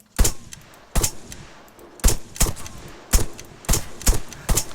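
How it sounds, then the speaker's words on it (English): Single gunshots ring out in the video game Arma 3, fired at a landmine. About eight sharp reports come at uneven intervals, some in quick pairs, each followed by a short echoing tail, with no voices. "So if I fire at the mine,"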